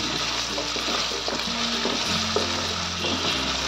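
Ground spice masala with coriander and cumin powder frying in a pan for a curd okra dish, a close, continuous sizzle with soft stirring and scraping, no voices.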